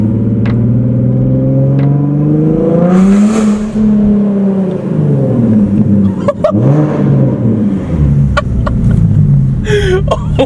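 A Nissan 370Z fitted with a Tomei exhaust rumbles loudly while driving, its engine note rising and falling through revs with a booming, raspy tone and a few sharp pops near the end.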